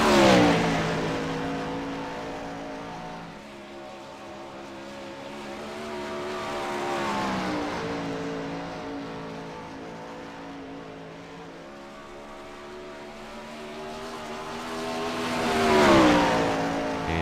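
A 410 winged sprint car engine roaring through qualifying laps at Knoxville dirt track, its loud buzzing drone rising and falling in pitch as the car sweeps around the oval, swelling near and fading down the straights.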